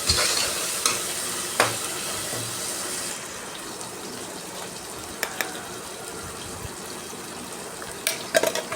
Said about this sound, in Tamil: இதையும் நல்லா அப்படியே வதக்கிறோம்